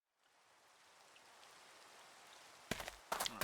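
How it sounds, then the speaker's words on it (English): Steady rain falls at night in a video game, a soft even hiss throughout, with a couple of brief louder clattering bursts near the end. "it's raining and it's night."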